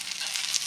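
Oil sizzling under a small soft parotta on a hot dosa tawa, a brief close hiss with light crackles and a couple of brighter pops.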